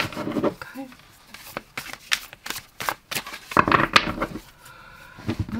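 Tarot cards shuffled in bursts of quick riffling and flicking taps, with pauses and light handling knocks between, close and moderately loud; brief speech at the start.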